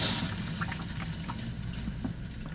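An RV toilet flushes after its foot pedal is pressed, a steady rushing wash of water running throughout with faint trickling and gurgling on top, close by and without talk.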